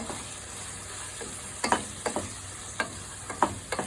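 Fresh shrimp sizzle and fry in a pan for pancit palabok under a steady hiss, while a utensil scrapes and clacks against the pan in several short, close stirring strokes.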